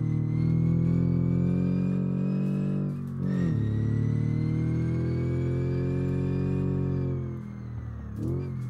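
A car engine in the BeamNG rally game revving hard through several gear changes, each climb in pitch broken by brief drops, loud and close with no talk over it.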